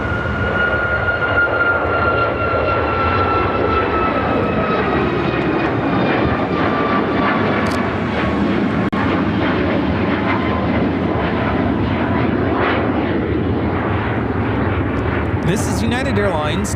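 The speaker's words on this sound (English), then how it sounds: "2465 taking off to Anchorage on the MAX 8." A United Airlines Boeing 737 MAX 8 takes off at Chicago O'Hare with a loud, continuous jet roar and a whining engine tone that slowly falls, steady throughout and heard from the spotting area.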